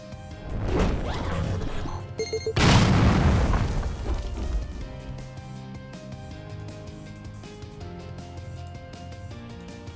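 Explosion attack in the video game Epic Battle Fantasy 5: a loud booming blast and crash hits, then a second heavier burst follows, fading into a game music bed.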